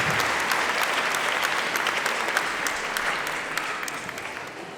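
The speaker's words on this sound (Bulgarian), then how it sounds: "Аплодисменти за учениците от НУФИ Филип Кутев, град Котел" Audience applause for student folk performers at a school folklore festival, a steady dense clapping throughout with a few sharper individual claps standing out, gradually easing slightly.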